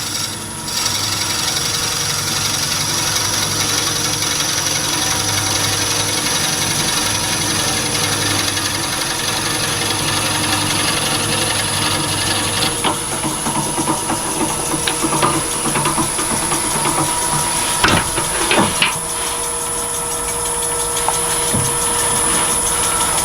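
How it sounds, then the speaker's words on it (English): Drill bit boring into a wood blank for a twist cap, a steady continuous grinding and rasping close to the microphone, running throughout with a brief sharper scrape near the end. "let's move the drill up a little bit further"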